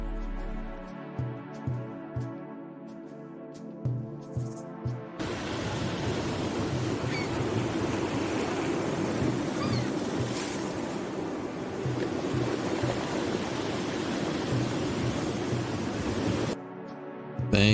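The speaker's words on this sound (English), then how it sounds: "Thank you for the ocean sounds." Steady ocean waves and surf roll in a constant broadband wash after a few soft musical notes at the start, holding evenly loud before cutting off abruptly near the end.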